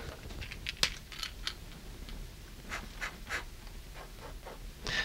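A fountain pen nib scratches across paper in quiet, short strokes, a soft intermittent scritching with faint ticks over a low background hum.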